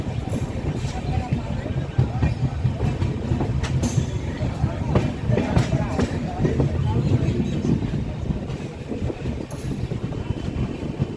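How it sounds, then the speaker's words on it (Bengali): Darjeeling Mail train pulling into Haldibari station, a heavy, continuous rumble and clatter of carriages close by, with wind buffeting the microphone and a voice talking over the noise. "এই মুহূর্তে প্রবেশ করছে হলদিবাড়ি স্টেশনে ঐতিহ্যবাহী দার্জিলিং মেল"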